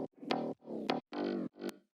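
A progressive house bass line without its R-bass layer plays four short synth bass notes in a rhythmic pattern with gaps between, sounding thin and plucky.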